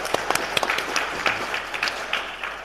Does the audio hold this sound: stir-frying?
no